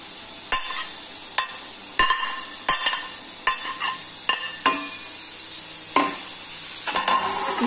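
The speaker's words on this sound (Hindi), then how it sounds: "इस तरह से इसे मिक्स कीजिए पहले" A spoon stirs ground dal into frying onions in a pan for Maharashtrian pithla, with repeated sharp scraping strokes at an irregular rhythm over a low, continuous sizzle.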